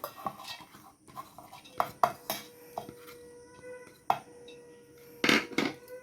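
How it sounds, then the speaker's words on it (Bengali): Soaked dal is tipped into a mixer jar with scattered clinks and knocks of utensils against the jar, irregular and fairly faint, with a quiet faint tone in the background. "এবার মিক্সিং জারে নিয়ে নিচ্ছি ভিজিয়ে রাখা ডাল"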